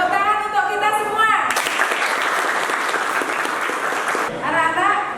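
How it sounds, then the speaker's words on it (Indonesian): A classroom of students at SMAN 10 Malang bursts into dense group clapping for a few seconds, with talk heard before and after the applause. "Tepuk tangan untuk kita semua."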